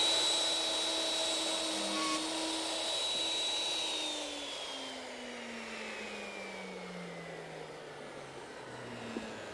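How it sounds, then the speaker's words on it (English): A wood router runs steadily with a continuous high whine whose pitch slowly drops, close and fairly loud, with no talk over it. "We'll plug it in and start the router."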